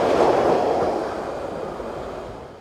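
Freight train hauled by a locomotive passing through a station on a European railway, a loud rumbling roar near the start that slowly fades as it moves away, with no speech.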